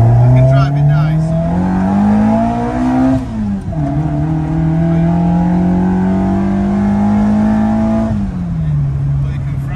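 A car fitted with a full race cam accelerates hard through the gears, its engine rising in pitch, dropping at a shift, then climbing again, loud and close from inside the car.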